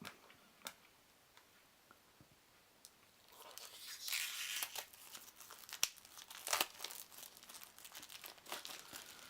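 Sealed foil packaging of a 2002 Wizards of the Coast Star Wars Attack of the Clones trading card starter deck is torn open: quiet ticks at first, then loud crinkling and ripping of foil in bursts, close up.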